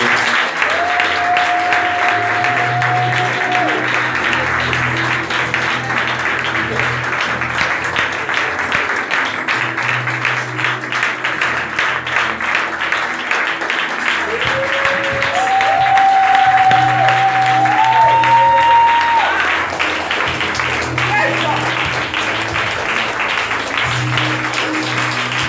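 A church congregation applauds steadily and loudly for a sustained stretch, broad clapping filling the room while a few held musical tones sound underneath.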